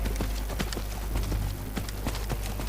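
An undead horse in the video game Skyrim clip-clops along with steady, loud, rhythmic hoofbeats over a constant low background hum, with no talking.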